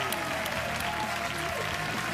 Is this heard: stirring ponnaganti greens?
no